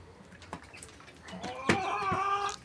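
A rooster's call rings out partway through, loud and close, after a stretch of faint rustling and scattered clucks.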